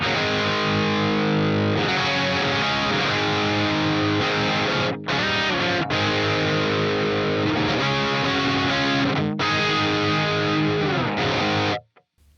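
Electric guitar with PAF-style Evergreen pickups, an 8.9K Alnico 5 bridge pickup, played through a Neural DSP Quad Cortex preset: a loud, continuous distorted rock riff with sustained chords and brief gaps, stopping abruptly near the end.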